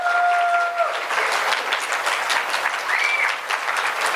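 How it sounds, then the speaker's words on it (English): An audience at a January 2013 meeting applauds the tech crew: dense, steady clapping from many hands filling the room for about four seconds, with a brief whistle or cheer near the start and again later. "Let's hear a round of applause to all the tech people that made this happen."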